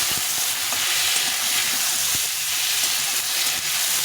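Potatoes and cauliflower sizzle and hiss steadily in a pan, with scattered scraping and tapping of a stirring spoon, close and continuous and free of speech.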